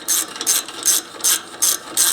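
A ratchet tightens an 8mm bolt on a ride-on mower engine with six evenly spaced, close, crisp clicking strokes in quick rhythm.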